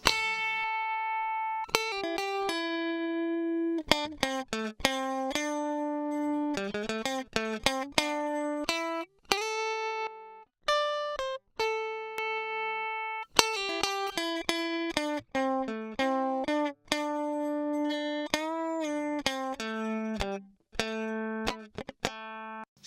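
A synth-like melodic line runs through the HoRNet HCS1 plugin with its attack level raised, giving sharp, clicky note onsets in quick runs and pauses, clean and alone with no talk.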